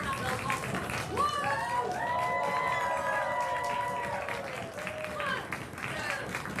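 A live improv comedy audience claps and cheers on cue as a warm-up, a dense steady wash of applause with whoops and voices mixed in throughout.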